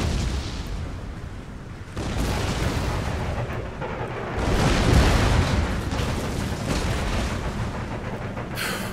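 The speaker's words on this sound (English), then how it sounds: "the artillery's going to come in and wreck them" Artillery barrage in Empire: Total War, a dense continuous rumble of distant cannon and howitzer fire with booming swells, strongest in the middle, unbroken by any voice.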